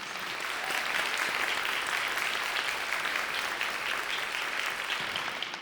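A large event audience gives a panel dense, steady applause, many hands clapping together at even loudness throughout with no voices above it.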